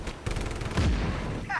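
Cannon fire in Just Cause 3, heard as a rapid burst of loud, close gunfire-like blasts with one heavier boom partway through, steady and dense across the whole moment with no talking.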